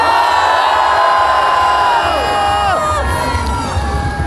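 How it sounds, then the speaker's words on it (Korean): A large outdoor crowd at the Hwadojin festival concert roars and cheers continuously, with high shouts and whoops layered over a dense, loud wash of voices. "인천에 살고 계신 분들 함성."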